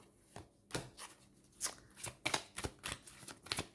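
Tarot cards are handled and laid out on a table, giving a series of soft, crisp slaps and rustles at irregular intervals, close and quiet, with no talking.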